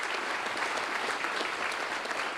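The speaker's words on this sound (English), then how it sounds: "So a little applause for him, too." Steady, fairly faint audience applause for a bagpiper at a public safety awards event, even continuous clapping from a crowd at a distance.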